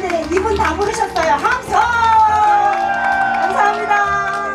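An outdoor festival crowd claps and cheers for a performance, with bright whoops and shouting in a dense, loud wash that swells and then holds steady.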